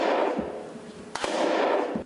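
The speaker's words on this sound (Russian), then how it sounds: "Выстрелы какие-то глухие." A replica Kalashnikov laser training rifle fires two quick, muffled, dull shots in close succession over a noisy background.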